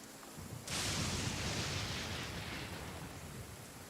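Rain and a thunderclap in the video game Genshin Impact, a sudden loud rumbling crack breaking over steady rainfall, then a long fading roll of thunder under the hiss of rain.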